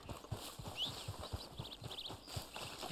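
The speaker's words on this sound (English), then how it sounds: "There's my horse, okay," Horse hooves clip-clopping in Red Dead Online, a steady rhythmic trot of dull close thuds, with a faint whinny and light background game ambience.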